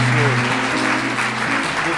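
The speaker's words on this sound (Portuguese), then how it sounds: "Você pode aplaudir ao Senhor pela vida deles." A church congregation applauds during a worship service, steady clapping filling the room with sustained tonal sound, likely music or voices, running underneath.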